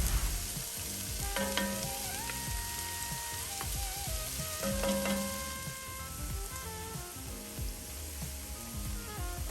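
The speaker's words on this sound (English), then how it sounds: "into my preheated pan is going in with some olive oil, all of my vegetables, my minced garlic" Vegetables and minced garlic fry in olive oil in a preheated pan, giving a steady close sizzle with crackling throughout and no talk.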